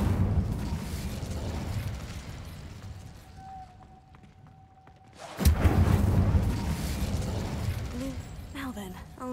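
A fire spell cast in the Hogwarts Legacy video game, a sudden loud whooshing burst of flame after a quieter stretch with a short tone, then sustained rumbling crackle, with a voice heard earlier.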